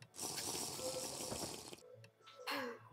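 Tap water running into a glass or sink for drinking, a steady broadband gush for nearly two seconds, then a brief pause and a short second burst of pouring.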